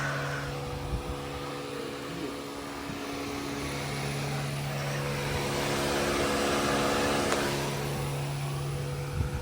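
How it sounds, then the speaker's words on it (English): A turbocharged B18B-swapped car makes a full-throttle pull, its engine drone rising steadily in pitch and loudness over several seconds, heard from inside with no talking. "Now we're gonna do some full throttle pulls"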